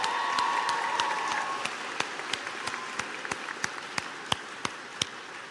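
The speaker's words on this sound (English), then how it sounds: "let's give them a round of applause" Graduation ceremony crowd claps in a large hall, full applause at first that thins into scattered, sharp individual claps toward the end.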